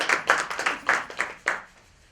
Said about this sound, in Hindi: जोरदार ताली हो जाए सभी लोगों के लिए।